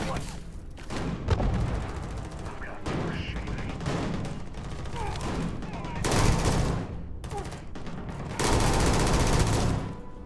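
Rapid bursts of gunfire from the player's weapon in the Starfield game, loud repeated volleys with heavier blasts near the end, under occasional talk.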